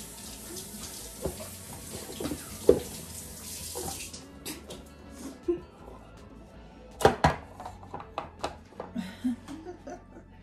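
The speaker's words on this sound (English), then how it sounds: "So I'm just gonna rinse these off." Kitchen tap water runs into a sink as green tomatoes from the garden are rinsed for canning chow chow, a steady hiss at first, then breaking into splashes, knocks and handling clatter, with faint voices in the background.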